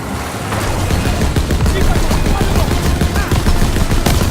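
Machine gun fire from a jeep-mounted gun in the World War II shooter game Call of Duty WWII, a dense continuous rattle of rapid shots with engine rumble, loud and close throughout.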